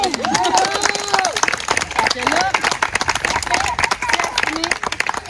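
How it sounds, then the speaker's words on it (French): An audience at the opening party of a summer event claps and cheers after a speech, the applause scattered and lively with whoops and crowd chatter, while a speaker's voice briefly carries over it. "Et là, je vous demande vraiment d'applaudir!"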